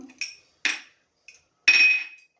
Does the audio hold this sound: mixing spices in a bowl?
yes